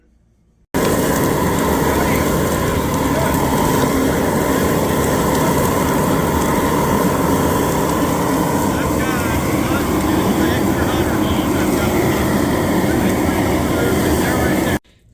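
A Hatch chile roasting machine runs with a steady, loud roaring rush like a jet engine, constant and unbroken throughout, close by.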